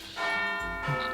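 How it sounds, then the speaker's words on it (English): A school bell rings in a classroom to signal lunch, a bright sustained tone with dense harmonic overtones that holds steadily for about a second, loud and close with no voices over it. "At the sound of the bell,"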